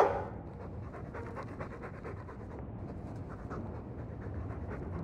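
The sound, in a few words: Mabari war dog panting in video game Dragon Age 2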